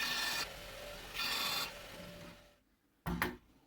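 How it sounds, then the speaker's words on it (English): A belt grinder grinds material from a trapper knife blade in bursts: two sustained rasping passes, a quieter stretch, then a short final burst, close and loud with no talking. "So let's get over to the belt grinder and we will start removing material."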